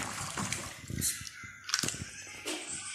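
Makeup brushes get washed in warm soapy water, giving faint, irregular splashes, sloshes and wet rubbing at close range with no talking.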